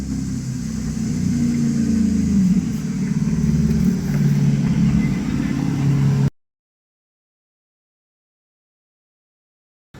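A car goes by on a nearby road with a moderate engine rumble that swells and fades slightly, then the sound cuts abruptly to silence partway through.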